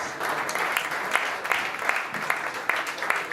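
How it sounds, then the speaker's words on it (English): Moderately loud audience applause at a startup competition session, a crowd clapping steadily in a large hall with a few sharper individual claps poking through. "Big applause."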